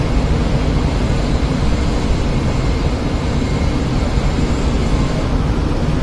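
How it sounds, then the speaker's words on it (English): A formation of RAF Typhoon jets on the RAF100 flypast over London, a steady broad low roar, loud and unbroken, with no speech over it. "22 typhoons in formation"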